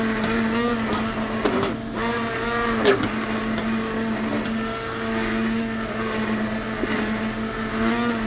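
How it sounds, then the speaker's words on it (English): A stick blender purees creamy potato cheddar soup in a pot on the stove with a steady, loud motor whine. The buzzing holds for several seconds with slight pitch shifts as it works through the thick soup. "Stick blender is really great for this. You can just do it right on the stove without having to put it in a blender."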